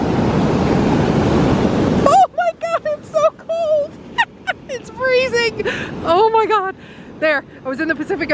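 Pacific Ocean surf breaks loudly along the northern California coast near the Redwood forest, a roaring wash lasting about two seconds before people start talking over a quieter background.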